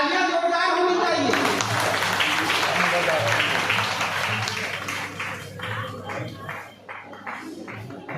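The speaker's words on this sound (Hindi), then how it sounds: "तालियां जोरदार होनी चाहिए।" Audience applause at a Bihar community felicitation event for a newly elected MLC, clapping that starts strong then thins into scattered claps, with talk and background noise mixed in.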